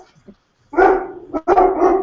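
A dog barks loudly and close in a home, giving a couple of sharp, excited barks in quick succession after a brief quiet whine, with no talking.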